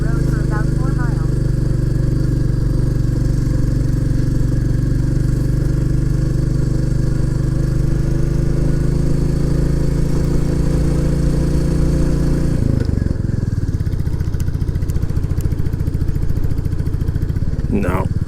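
A Royal Enfield Classic 350 motorcycle engine labours up the steep Rosedale Chimney climb, a loud steady drone with clear gear changes and pitch shifts, and a person talks over the engine throughout.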